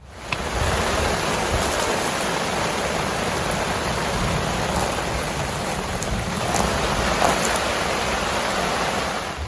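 Steady rain pours down at a campsite with a teardrop camper, a dense, even hiss that stays loud and unbroken throughout, with faint drips and patters on top and no voices.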